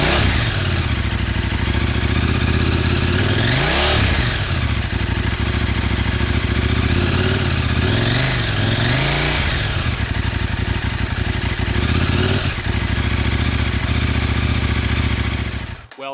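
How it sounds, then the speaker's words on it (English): A KTM 790/890 motorcycle fitted with a new Dominator exhaust runs loud and close, its steady rumble broken by several rising and falling throttle revs. "that's what the bike sounds like with the new exhaust on it"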